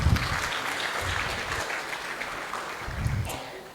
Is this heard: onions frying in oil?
no